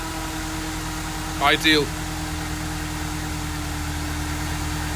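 A supercharged Mercedes-Benz engine idles with a steady, even drone and a thin supercharger whine running through it, while a voice briefly speaks partway through.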